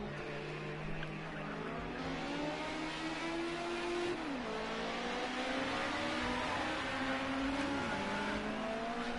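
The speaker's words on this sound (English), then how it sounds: "This car now is released and now gets the throttle down because he's now released from the pits." A Group 5 race car in a video game accelerates out of the pits at Watkins Glen, its engine note climbing and shifting through gears, with other cars droning under a continuous moderate roar.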